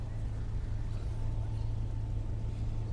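Boats moving on the river Ganga after rain, a low continuous engine rumble that holds steady and moderately close, with no talk heard.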